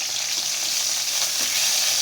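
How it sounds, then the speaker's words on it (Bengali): Fish frying in oil gives a dense, even sizzle that holds steady and close throughout, with no voices. "এদিকে মাছ ভাজা হচ্ছে"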